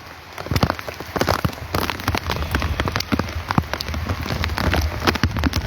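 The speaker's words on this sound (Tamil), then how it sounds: "மேலப்பாளையத்தில் நீண்ட நாளுக்கு பிறகு செம மழை பெய்யுது." Heavy rain pours in Melapalayam, a dense, close hiss of drops splattering on surfaces with sharper individual patters throughout and no voices.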